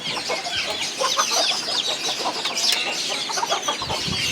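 Small chicks and chickens cluck and cheep continuously around a cage, with a dense layer of overlapping high chirps and soft clucks, close and moderately loud, with no voices.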